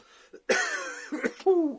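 A few sharp coughs close to the microphone, a short burst followed by another, with brief throat sounds between them.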